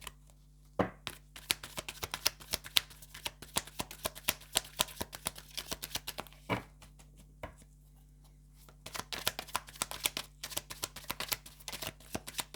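Tarot cards shuffled by hand in rapid crisp riffles and slaps, close and fairly quiet, with a brief pause midway before the shuffling resumes.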